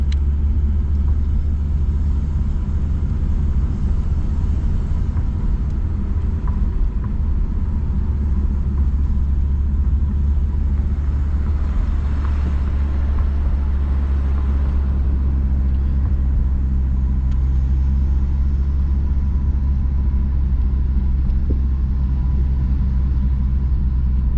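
Audi Coupe engine idling after its first start in over a year, a steady low rumble close by that holds evenly throughout with no voices.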